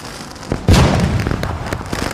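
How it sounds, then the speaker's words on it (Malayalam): A single firecracker bursts with a sharp, loud crack, followed by a short rumbling tail and scattered faint pops, heard alone without speech. "എന്തോ അവിടെ ഒരു പടക്കം പൊട്ടുന്ന സൗണ്ട്."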